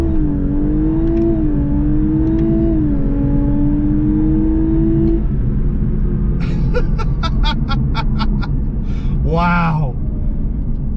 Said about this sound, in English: a screaming engine up front